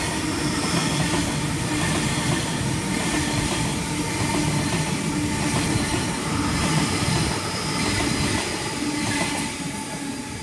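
Sydney Waratah electric passenger train passing through Lewisham, a loud, continuous close rumble of wheels and motors with faint rail squeal, steady for the whole stretch.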